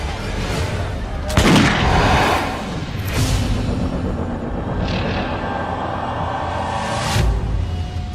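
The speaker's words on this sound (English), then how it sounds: "Europeans pick up on the idea, embracing and perfecting gunpowder weapons." Early gunpowder weapons fire in a series of loud, booming blasts, a few heavy reports spaced a second or more apart over a constant rumbling bed of battlefield noise.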